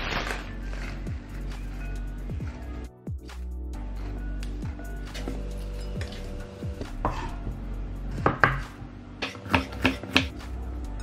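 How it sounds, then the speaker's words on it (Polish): A knife chopping cucumber, tomato, pepper and baby spinach on a board in a home kitchen, steady close taps that quicken into denser bursts of cuts toward the end, with faint kitchen clatter and no talking. "I kroimy warzywa. Dla mnie będzie ogórek, pomidor, papryka i szpinak baby, a dla Rema będzie cebula"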